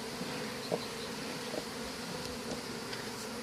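Bees buzzing close by in an outdoor setting, a continuous droning hum with brief louder passes as insects fly near, no voices.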